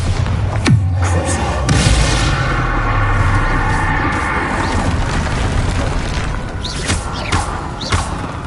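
Bombarda spell explosions in the video game Hogwarts Legacy, loud booming blasts and thuds over a dense, continuous rumble of combat noise, with several sharp impacts scattered through the stretch.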